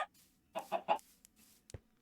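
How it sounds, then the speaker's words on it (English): Chickens in the video game Minecraft give a few short, soft clucks close together, then a brief pause and one more low cluck, faint against a quiet background, with no talking. "Chickens, obviously."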